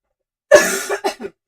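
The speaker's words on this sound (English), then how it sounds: "I wasn't coughing until I came on here." A single close, harsh cough followed by two or three shorter throat-clearing coughs, alone in an otherwise silent moment.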